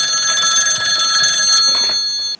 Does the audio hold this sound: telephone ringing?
yes